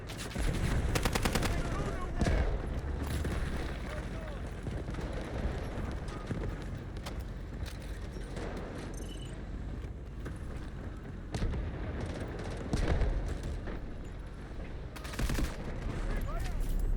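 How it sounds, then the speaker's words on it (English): Gunfire crackles in the video game Delta Force, with bursts of rapid shots and scattered single reports over a busy rumbling backdrop, some loud and near, others distant, while someone talks at times. "Someone's shooting me that I can't even see."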